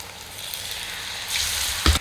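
Wheat-flour potato snacks are lowered into hot oil over a low-to-medium flame and sizzle steadily. The frying swells louder near the end, with a brief bump as more pieces go in.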